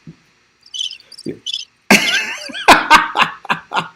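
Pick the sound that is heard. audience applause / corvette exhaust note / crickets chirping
crickets chirping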